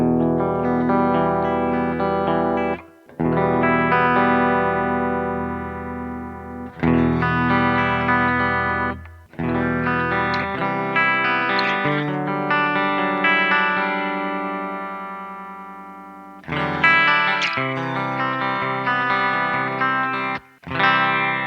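An electric guitar plays through an Orange Terror Stamp amp and a cab simulator, giving a sustained, slightly distorted tone with chorus-like shimmer as chords ring out and are restruck every few seconds, with no talking.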